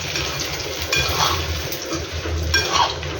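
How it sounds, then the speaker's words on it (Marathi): Food frying with cumin seeds in a kadhai, shifted and turned over with a utensil, with soft clatter of the spatula against the pan over a steady low sizzle, close by and with no talk. "छानपैकी जिरं टाकून यायला आपल्याला इकडून तिकडून फ्राय करायचे आहे दोन्ही साईडने"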